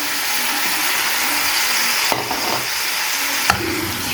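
Sliced onions, cut into large julienne strips, hiss and sizzle steadily in a hot pan of chicken, a continuous broadband fry with a couple of sharp crackles or stirring clatters partway through.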